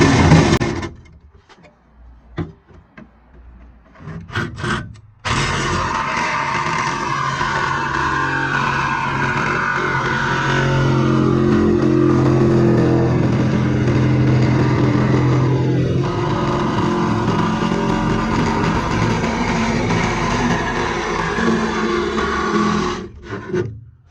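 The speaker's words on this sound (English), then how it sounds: "You can use a cutoff wheel." Cutoff wheel grinding through the steel floor pan of a 1969 VW Beetle convertible, a loud sustained rasping whine that runs steadily for about twenty seconds after a few brief starts, with no talking.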